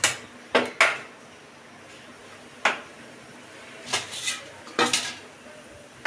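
Pot of cooked rice for mutton biryani lifted off the stove, giving a few sharp metallic clanks and scrapes of pot on burner, close and separated by quiet gaps.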